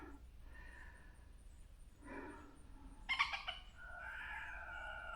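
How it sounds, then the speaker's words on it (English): Chickens roaming outdoors give a few faint clucks and calls, quiet and brief against a soft background. "Chickens out and about."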